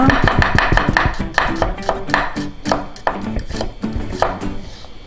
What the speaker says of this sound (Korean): 자, 그 다음에 할 거는 마늘 다질게요.